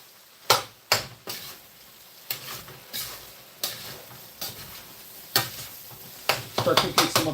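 Butter melting in a hot wok gives a soft sizzle broken up by a series of sharp, irregular scrapes and clacks from stirring, close and moderately loud, with no talking.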